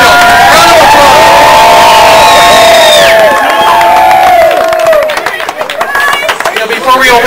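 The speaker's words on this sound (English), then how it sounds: "Round of applause!" A crowd at a coffee shop grand opening cheers and whoops with high, sustained shouts over clapping, then settles into scattered applause and chatter.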